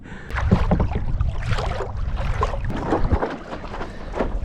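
Kayak paddled through Emsworth harbour, with rhythmic splashes and water sloshing close by amid gusty wind.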